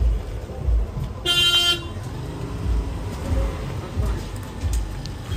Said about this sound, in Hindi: यहाँ पर गाड़ियों का लग गया है ट्रैफिक जैम।